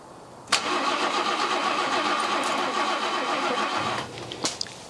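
An old barn-find BMW engine, sitting unused for about 30 years, cranks for roughly four seconds in one steady, close, loud whirring burst without catching, followed by a couple of clicks.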